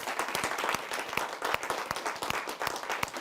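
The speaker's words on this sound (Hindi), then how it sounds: "तालियों के साथ स्वागत करते हैं" Audience at a Hindi kavi sammelan poetry event clapping to welcome a poet, a brisk, dense burst of applause heard alone and fairly close.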